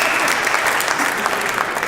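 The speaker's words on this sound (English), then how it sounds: "I think that deserves a round of applause for making it." A conference audience applauds in a dense, steady burst of many hands clapping, loud and continuous through the whole span with no voices.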